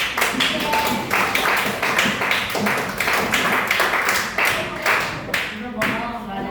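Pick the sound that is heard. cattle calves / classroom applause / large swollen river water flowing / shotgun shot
classroom applause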